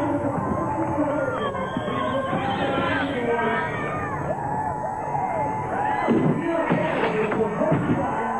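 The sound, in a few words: crowd cheering at 1996 X-Games inline street finals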